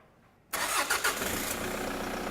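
A diesel car engine in a workshop cranks and fires after a half-second of quiet, then settles straight into a loud, steady idle.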